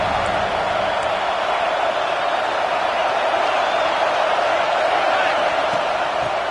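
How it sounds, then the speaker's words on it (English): Home crowd at an Ohio State college football stadium in a video game, roaring on third down as a steady, dense wall of cheering that holds at an even loudness throughout. "The Buckeye crowd alive on 3rd down."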